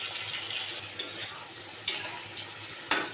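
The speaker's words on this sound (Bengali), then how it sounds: "খুব ভালো করে কষিয়ে নেব।" Masala with salt and turmeric sautéing in a pan with chilli, ginger, cumin, coriander powder and whole garam masala, a steady close sizzle broken by three sharp scrapes of a spoon against the pan.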